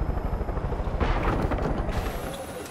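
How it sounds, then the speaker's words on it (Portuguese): Helicopter rotor chopping steadily inside the Far Cry 5 video game, mixed with crackling fire and explosive bursts, loud and continuous throughout. "Calma, helicóptero."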